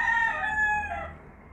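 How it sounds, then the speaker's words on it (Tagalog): Roosters crowing outside in the afternoon, a long drawn-out crow that fades at the end, moderately near and heard alone. "Hapon pa lang ay marami nang tumitilaok."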